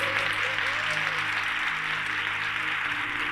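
Church congregation applauding, a dense, continuous clapping that fills the room, with a voice faintly audible beneath it.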